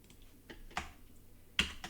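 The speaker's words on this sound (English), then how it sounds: "you're gonna type the following command" A command is typed on a computer keyboard, quiet isolated key clicks, three or four sharp taps spaced unevenly, with a stronger keystroke near the end in a still room.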